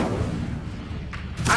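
Incendio fire spell cast in Hogwarts Legacy, a low rumbling whoosh of flame with a thudding body, ending in a brighter burst, no voices.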